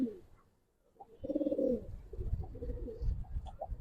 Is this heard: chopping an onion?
no